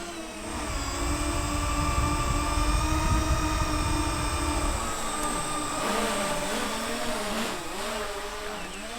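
Aircraft engine of a fat cargo plane concept, the Howard DBA, climbing in a flight simulator game, a loud continuous droning hum with steady tonal whine that wavers in pitch toward the end, no voices.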